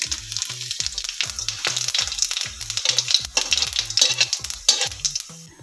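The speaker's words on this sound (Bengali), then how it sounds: "এবার আমি ফোড়নের জন্য প্রথমে শুকনো লঙ্কা আর তেজপাতাটা দিয়ে দিচ্ছি। গোটা গরম মশলা আর জিরেটা ফোড়নের জন্য দিয়ে দিচ্ছি।" Dry red chillies, bay leaf, whole garam masala and cumin seeds sizzling in hot oil for egg bhurji curry, a loud crackling sizzle with rapid rhythmic clinks of a spoon against the pan.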